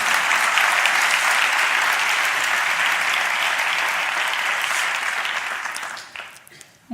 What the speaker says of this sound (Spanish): Un fuerte aplauso para Gisela Baños.